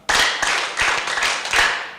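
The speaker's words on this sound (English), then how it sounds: "A sound clap, another one, another bigger one." An audience at a youth community forum claps in three short bursts of rhythmic hand claps, close and loud, each burst rising then stopping.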